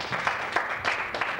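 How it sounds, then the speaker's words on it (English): A crowd gives warm applause to welcome the guest Paul Sullivan to the stage, a moderate, steady patter of clapping heard alone for a brief moment. "Mr. Paul Sullivan, so please give him your warm applause."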